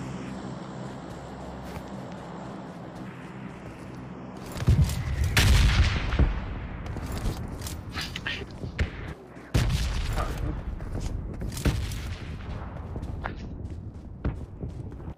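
Gunfire in a shooting video game, with rapid bursts and heavy booming shots that start after a quieter stretch and keep returning close and loud, mixed with footsteps and a voice talking under the action.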